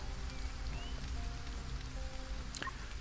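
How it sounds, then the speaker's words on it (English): Rain in the game Stranded: Alien Dawn falls as a steady soft patter throughout, with faint tonal game sounds drifting over it and a brief brighter chirp near the end. "I know it's raining and that's going to make you cranky"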